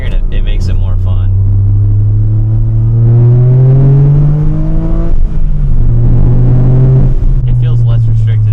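Toyota GR Corolla fitted with an OTL catback exhaust, valve open, heard from inside the cabin: a loud, resonant engine drone that rises in pitch under acceleration, dips at a gear change, then climbs again, with people talking over it.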